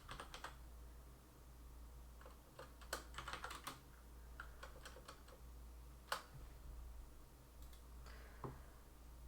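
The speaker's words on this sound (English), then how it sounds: "typing intensifies" Rapid bursts of computer keyboard typing, with irregular clusters of keystrokes and a few sharper taps, fairly faint over a steady low background hum during live tournament commentary.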